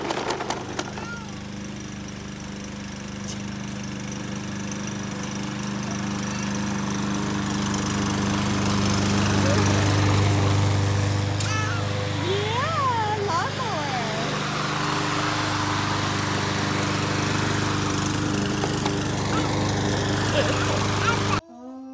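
A lawn mower engine drones steadily and close by for the whole stretch, its hum swelling slightly midway, while people talk over it.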